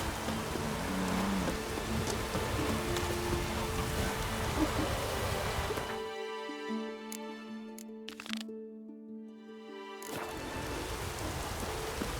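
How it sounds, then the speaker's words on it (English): Dense, steady rain in The Witcher 3: Wild Hunt hisses loudly, briefly dropping out to near silence with a few clicks before the downpour resumes. "It's raining."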